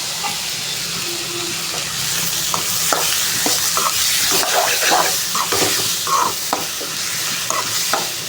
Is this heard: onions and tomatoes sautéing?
yes